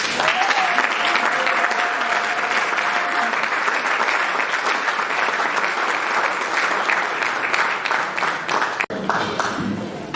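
A convention audience applauds the members of the Apouzi directorate, a loud, dense, sustained wash of clapping from a crowd lasting about ten seconds, with a brief drop near the end before the clapping resumes.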